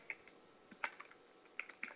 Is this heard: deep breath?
no